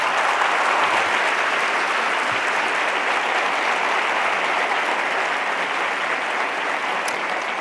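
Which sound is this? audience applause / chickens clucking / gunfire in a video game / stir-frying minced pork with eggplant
audience applause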